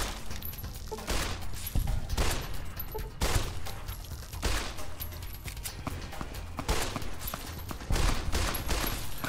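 Sustained gunfire in Fallout: New Vegas, repeated shots and bursts cracking at a steady, uneven rhythm through a dense, moderately loud combat mix with no talking.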